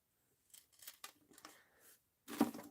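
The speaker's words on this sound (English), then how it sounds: "I'll be trimming some of this bottom stuff off." Scissors trim paper for a mixed-media art journal. The close, quiet snips and paper rustles come in a few short bursts, ending with a louder cut and crinkle.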